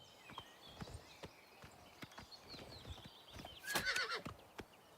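Horse in the video game Oblivion Remastered, hooves clip-clopping in an irregular walking rhythm with a loud neigh partway through, close against a quiet background.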